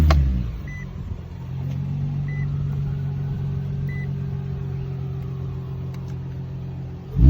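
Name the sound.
Infiniti G35 car engine starting and idling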